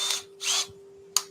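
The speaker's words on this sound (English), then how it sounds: "power sanding without the lathe running" Two bursts of high-pitched whirring from a cordless drill power sanding a yew wood hollow form on a stopped lathe, then a short sharp burst, with a steady electrical hum underneath.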